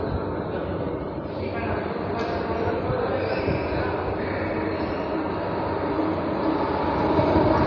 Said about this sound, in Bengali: দেখুন ট্রেন আসছে